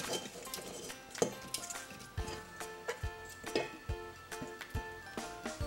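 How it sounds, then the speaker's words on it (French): Frozen raspberries dropped into a Thermomix TM5 bowl, a series of sharp hard clinks and knocks, irregular and close, continuing for several seconds. "Donc là, je vais mettre les framboises."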